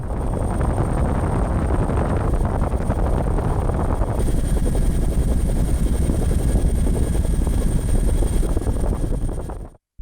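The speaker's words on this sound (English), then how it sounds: "the Air Force used a Bell 412 helicopter to monitor the flood areas today" A Bell 412 helicopter's steady, loud rotor thrum and engine whine fill the whole stretch, continuous and close, with a slight change in tone midway before cutting off.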